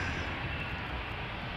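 TUI airliner on its takeoff roll from Schiphol's Polderbaan runway, a steady, distant jet engine rumble heard faintly through wind noise, continuous without any rise or break.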